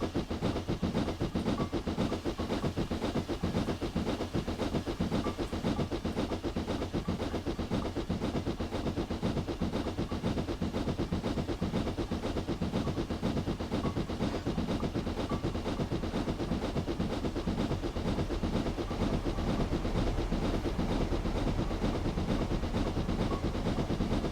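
A steam train rolls along the Bristol to Exeter line in Train Simulator 2021, producing a continuous loud rumble with steady rhythmic chuffing and hiss throughout.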